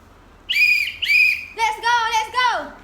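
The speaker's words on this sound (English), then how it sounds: "remember my whistle signal?" A tour guide blows a signal whistle outdoors: two short shrill blasts, then a longer warbling run of several pulses that trails off, loud and close, with no talking over it.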